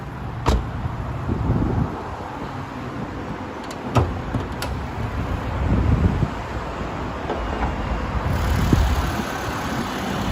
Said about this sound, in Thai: ผมขออนุญาต สตาร์ทเครื่องด้วยเลยนะครับจะได้ฟังเสียงเครื่อง